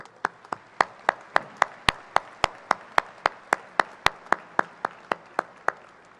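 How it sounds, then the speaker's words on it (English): At a 2012 university graduation ceremony, hands clap close by in a crisp, evenly spaced rhythm of about twenty distinct claps. The claps sound like a single clapper rather than a broad audience. "Let's give them a round of applause."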